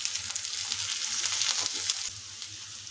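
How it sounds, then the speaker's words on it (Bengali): Raisins are stirred into potatoes frying in a pan, giving a steady close sizzle with soft scraping stirs that ease off slightly near the end. "কিশমিশটাও নেড়ে চেড়ে নেব।"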